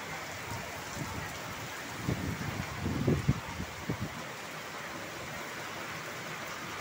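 Heavy rain driven by strong gusting wind pours onto a road as water runs along it like a canal. A steady, dense hiss fills the whole stretch, and a few louder rough bursts surge in the middle.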